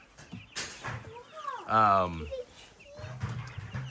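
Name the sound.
chickens clucking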